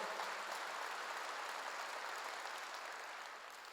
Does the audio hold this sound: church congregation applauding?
yes